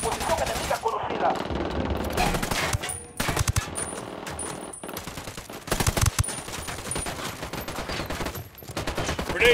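Heavy automatic gunfire in the video game Ghost Recon Wildlands, loud and close, with rapid bursts, single shots and thuds that rise and fall during a firefight. Game voices call out now and then.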